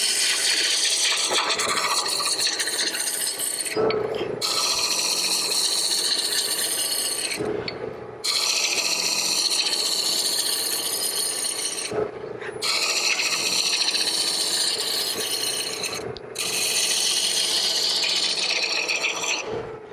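Lathe tool shaping the outside of a wood hollow form, a steady rasping cut that runs continuously in long passes with brief pauses between them, close and fairly loud with no talk.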